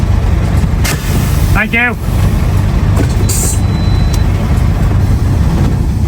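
A heavy haulage truck rumbling loudly at low speed while parking tucked against a hedge, a constant deep engine drone with a hissing burst midway and a brief spoken phrase.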